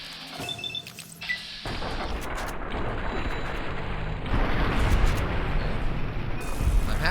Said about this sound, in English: I'm happy to see our explosions going off again.